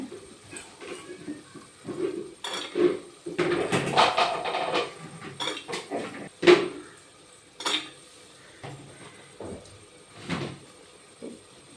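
Metal clanks and scrapes of a spoon stirring in a cooking pot as soaked green peas are added to sautéed spices for a one-pot pea rice, irregular knocks and clatters at moderate volume with no talking.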